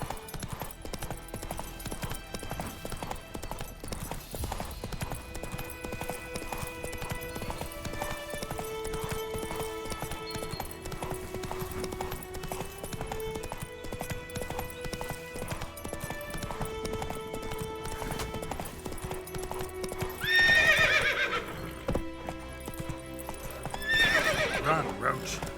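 Roach, the horse in The Witcher 3, moves along with hooves clip-clopping steadily under a continuous musical score, with two short whinnies or snorts rising near the end.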